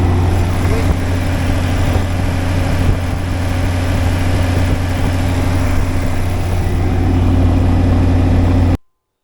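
A Rotec radial engine on a Renegade aircraft runs at about 1,000 propeller RPM, giving a steady, loud low-pitched throb with a constant hum, close by, until the sound cuts off abruptly near the end.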